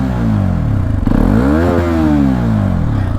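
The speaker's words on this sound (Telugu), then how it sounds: "యాక్చువల్లీ ఎగ్జాస్ట్ సౌండ్ అయితే ఈ వెహికల్ చాలా బాగుంది," A Hero Xpulse 210 motorcycle, liquid-cooled DOHC engine, revs close by, its exhaust rising in pitch through a throttle blip and easing back to a throbbing idle, loud and alone.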